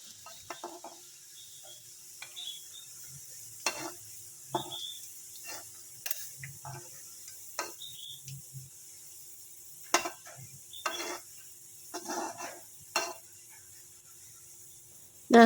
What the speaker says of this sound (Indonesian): Setelah minyaknya panas, kita masukkan bawang putih cincang ini. Lalu goreng sampai warnanya kuning keemasan dan baunya harum.